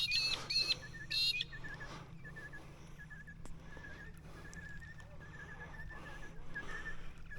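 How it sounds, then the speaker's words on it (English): Birds chirp and call near a lake while fishing for redfin, with shrill whistling notes early on and a repeated thin call over a low steady hum; faint voices murmur in the background. "You birds keep it down a little bit."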